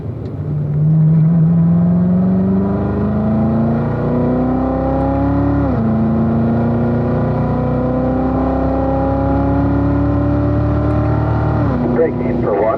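A Corvette engine on a race track, loud and close, climbing through long accelerating pulls with rising pitch, dropping on gear changes and braking, a continuous in-car roar.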